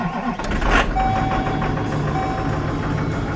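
A diesel vehicle engine cranks and catches after the glow plug cycle, settling into a steady idle, fairly loud and close with no talking.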